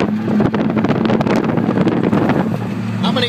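A Datsun Z with an RB30 engine drives past close up, a loud, rough, continuous engine roar with a steady low hum, buffeted by wind noise.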